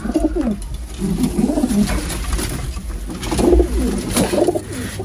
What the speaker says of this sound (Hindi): ऐसे कबूतर कौन उड़ाता है